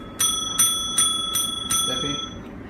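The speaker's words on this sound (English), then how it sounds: "You want to ring my bells?" A small bell rings five times in an even, quick rhythm, each ding bright and ringing out, with a brief murmur underneath near the end.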